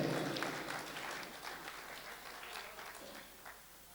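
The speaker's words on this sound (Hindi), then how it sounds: "एक मरतबा तालियां अपने लिए आप बजा लीजिए।" Audience applause fills a grand Urdu mushaira hall in Mumbai, a dense steady patter of many clapping hands that eases slightly toward the end.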